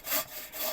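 Hand saw rasping through firewood in a quick back-and-forth stroke, close and fairly loud, with no talking.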